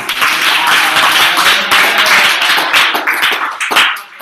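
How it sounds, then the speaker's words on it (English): A round of audience applause at a young mastermind gathering, loud close clapping that stays steady for several seconds and then thins out at the end. "Let's give him a round of applause."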